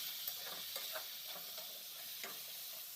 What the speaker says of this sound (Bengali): এবার মুগ ডালের জন্য আমি কুমড় আর ফুলকপিটা ভেজে নিচ্ছি